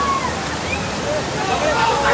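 Fast-flowing floodwater rushes through a Hyderabad street, a loud continuous roar of churning water with faint voices barely audible under it.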